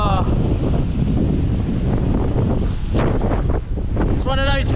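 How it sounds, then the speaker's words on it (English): Strong gusting wind buffets the microphone in a loud, continuous roar, with a voice briefly heard beneath it. "But boy, is it windy at the moment."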